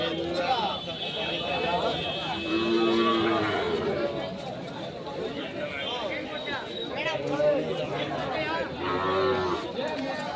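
Cattle at the weekly K G Temple cattle market, with repeated low moos rising amid a crowd of people chattering and bargaining, the animal calls close and steady under the talk.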